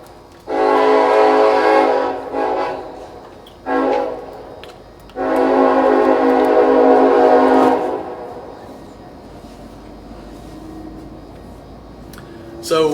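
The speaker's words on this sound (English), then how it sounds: "I guess we'll let the train go by here for a second" A train sounds its horn in several long blasts, two short ones between them, as it passes at a moderate distance, then the rumble fades into quiet background noise.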